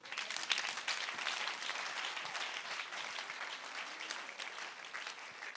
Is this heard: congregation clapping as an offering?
yes